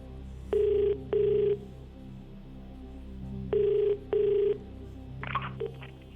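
A telephone rings in two double bursts, loud and close, with a short electronic chirp near the end, during a phone-a-friend call on a television quiz show.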